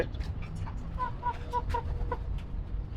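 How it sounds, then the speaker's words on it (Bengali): Chickens, a rooster and hens in a rooftop loft, giving soft clucks and short calls over a steady low background rumble, fairly close, with no one speaking. "ফ্যামিলি মোরগ এবং মুরগি"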